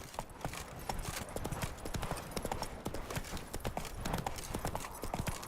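A horse gallops in The Witcher 3: Wild Hunt, its hooves beating a rapid, steady clip-clop close by over ambient game noise.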